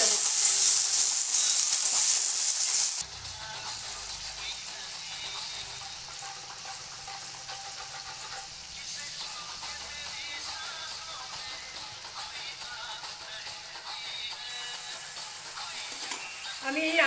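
Turmeric, ginger paste and chopped green chillies sizzle and spit in hot oil while being stirred, a steady close-up frying hiss with light scraping throughout.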